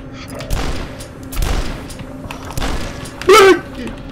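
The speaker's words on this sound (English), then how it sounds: "Wow, he just exploded." In the retro shooter Dusk, several heavy thuds and bursts of gunfire lead to an enemy blowing apart, a loud blast near the end, with speech-like sound partly mixed in.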